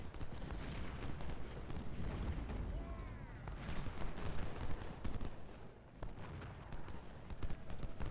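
Musket and artillery fire rumbles in a Civil War strategy game as skirmishers take heavy fire, a steady crackle of distant volleys with booms beneath, fairly faint, under a commander's talk.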